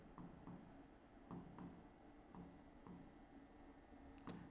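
Pen or chalk writing on a board during a general-knowledge lesson: continuous scratchy strokes with regular taps and short pauses, steady and close, with no talking.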